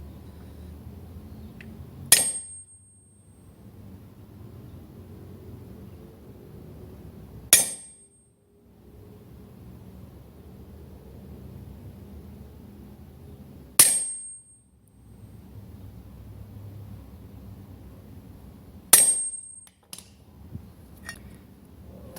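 A hammer strikes 3 mm letter punches into a metal seed backup plate. Four sharp, ringing metallic blows land about five seconds apart, each decaying quickly, with quiet between them.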